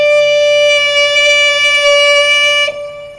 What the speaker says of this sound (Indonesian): sampailah masanya terdengar sirine